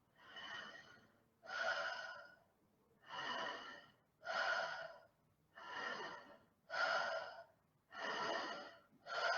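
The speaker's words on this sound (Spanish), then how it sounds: "Vamos a hacer 4 respiraciones cortas y una respiración un poquito más larga" Breathing exercise of four short breaths followed by a slightly longer one, repeated as a cycle; eight distinct, close, audible breaths with a steady rhythm and brief pauses between them, no talking.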